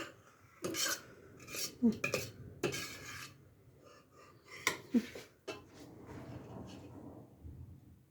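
Metal utensil scraping pudding from a pot, clanking against it in several separate bursts, close by, with quieter rustling between.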